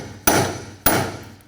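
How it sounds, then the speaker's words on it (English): Two sharp, loud metallic hammer blows land on a punch, about half a second apart and ringing out after each strike, knocking a rear CV axle loose from the hub on a 2014-2020 Nissan Rogue. "I'm just going to take a punch and a hammer. Try to loosen up the axle from the hub."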